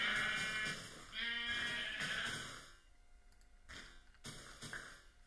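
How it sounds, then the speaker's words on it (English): Blocky sheep in the Minecraft video game bleat in a few loud, harmonic calls over the first three seconds, then fade into quieter clicks and short bursts of game sound. "Sheep."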